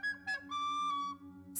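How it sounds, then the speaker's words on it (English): Someone whistles a few clear, tonal notes, two short ones and then a longer sustained note, heard close and fairly loud over a low steady hum. "Stop whistling."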